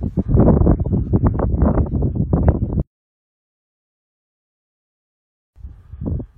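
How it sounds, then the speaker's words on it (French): Gusty wind buffets a microphone outdoors during a metal detecting outing, a loud rumbling roar for nearly three seconds that cuts off, then returns more softly after a pause of silence. "Là, le vent."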